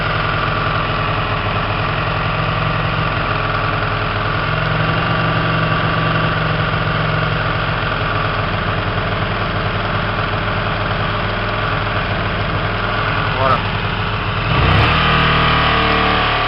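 A Hyosung 125 GTR motorcycle engine idles steadily up close after a fuel mixture adjustment, a loud continuous throbbing hum with a slight change in tone near the end.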